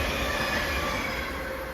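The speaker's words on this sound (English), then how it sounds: "We have an Avanti West Coast Class 390 Pendolino formed of 390 154." An Avanti West Coast Class 390 Pendolino electric train, unit 390 154, passes close by with a loud, steady roar of wheels on rail and a faint high whine throughout.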